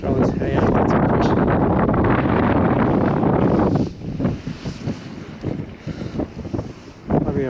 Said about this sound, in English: The wind's actually picked up after this little bit here at the harbour.